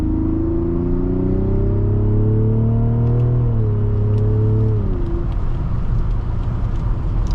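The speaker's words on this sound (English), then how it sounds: "even in this base 280 horsepower turbocharged inline 6, gets up to speed very nicely" A 2024 Mazda CX-90 family SUV with the base 280-horsepower turbocharged inline-six accelerates from the cabin, its steady engine drone climbing in pitch, easing through a gear change, then settling into loud road rumble, with no talking.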